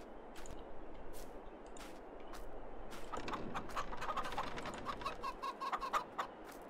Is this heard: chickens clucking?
yes